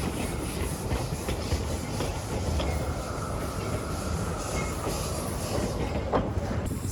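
A steam railway cargo train rolls along the rails with a steady clickety-clack of wheels and a continuous low rumble, heard at moderate distance with a faint squeal near the end.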